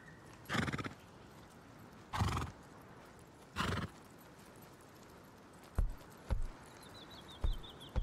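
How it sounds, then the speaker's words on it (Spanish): Horses in the survival game Rust neigh and whinny in several separate loud bursts, followed by a few sharp clip-clop hoof knocks, with no talking. "los caballos, qué ruido meten"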